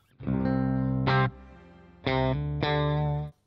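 Sustained electric guitar notes pass through a Boss GX-100 pitch-shift effect dropping seven semitones, creating a doubled, lowered tone; three separate strummed chords ring out and decay.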